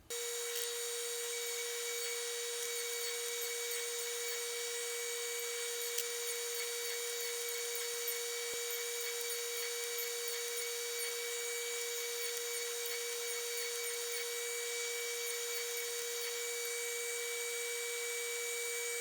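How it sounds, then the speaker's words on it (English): A router on a router table, set up with a stop block, rounds over the edges of wooden tenons. It gives a steady, close mechanical whine with a constant hum that runs unbroken throughout, with no talking. "I set up a quick and dirty stop block on the router table just to help me round over the edges of these tenons"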